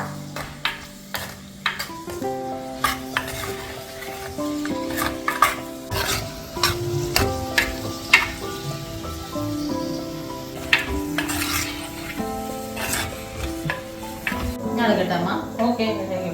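Banana is stirred in ghee in a pan for a traditional dish, with steady scraping and clinking of a utensil on the pan and voices talking over it throughout.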